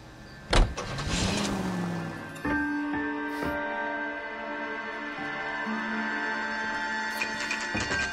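A car driving in the video game LA Noire: a steady engine hum with sustained tonal drone, preceded by a sharp knock near the start and a brief shift partway through, with no talk.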